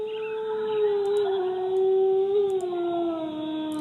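Wolves howling as a web page sound effect, a long sustained, loud wavering howl sliding slowly downward, layered with a second voice.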